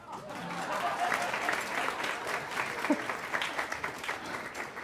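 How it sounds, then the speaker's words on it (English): An audience at a jazz talk event claps warmly, a continuous moderate patter of many hands heard from within the room, with faint voices mixed in. "That's applause."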